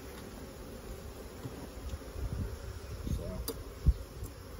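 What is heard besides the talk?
honey bees buzzing at an open hive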